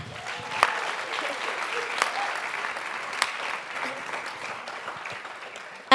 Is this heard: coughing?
no